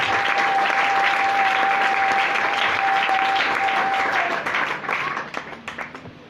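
An audience applauds a reverend apostle at a church service, a loud, dense wash of clapping that holds steady and then thins into scattered claps near the end.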